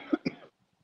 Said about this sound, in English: Oh, I'm so sick of coughing.